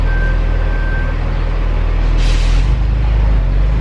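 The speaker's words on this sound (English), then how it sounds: "Can you hear me? There's like trucks moving." Trucks move outside, a heavy low engine rumble that holds steady throughout with a brief hissing burst like an air brake midway, muffled as if heard from indoors.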